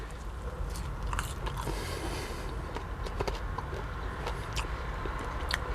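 Someone bites into crunchy fast food fries and chews, a run of close, faint crisp crunches and mouth noises over a low steady background hum, with no talking.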